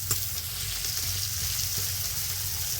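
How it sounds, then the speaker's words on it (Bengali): Cauliflower frying in a pan of oil: a steady, close, even sizzle that continues unbroken throughout, with no voices. "ফুলকপিটা এদিকে আস্তে আস্তে ভাজা হতে থাকুক"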